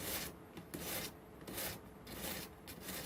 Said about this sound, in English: We're just doing real light and using it like a hone